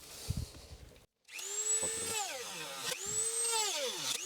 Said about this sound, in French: On a aussi ces deux petites pattes là qui vont gêner, donc on va les découper aussi.